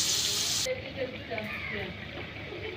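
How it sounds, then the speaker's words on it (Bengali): Onion and green chili hit hot oil left from frying hilsa fish, giving a brief loud sizzle that fades into softer frying while a voice speaks over it. "এই তেলের মধ্যে হচ্ছে পেঁয়াজ আর কাঁচামরিচ দিয়ে দিলাম ভাইজে নেই হালকা"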